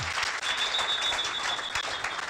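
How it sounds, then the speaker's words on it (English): Brief, dense applause from an outdoor broadcast audience, a steady even wash of clapping with a thin tone running through it. "Please, another round of applause for him."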